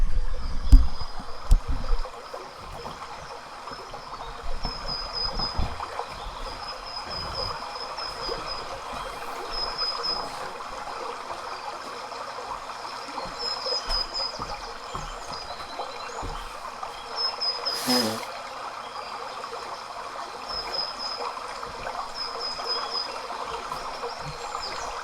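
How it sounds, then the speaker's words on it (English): A recording of a flowing stream with birds plays back as a steady, soft watery rush, with faint, high bird chirps recurring throughout. "water here and bird sounds"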